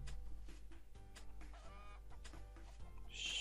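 Chickens cluck in the Roblox game Skyblock, a series of short, quiet clucks and fowl calls in a soft, close stream over a low steady hum, with a brighter burst near the end.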